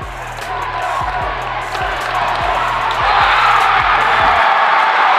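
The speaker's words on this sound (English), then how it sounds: "the crowd goes wild" Crowd at a college volleyball championship erupts in loud, sustained cheering after the match-point kill, swelling louder toward the end, with rhythmic low thumps of stomping or drums under the roar.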